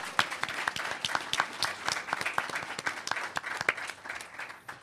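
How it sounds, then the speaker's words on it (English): An audience at a panel on New York City campaign finance gives a round of applause, crisp individual claps blending into steady clapping throughout. "So if we can all give ourselves a round of applause"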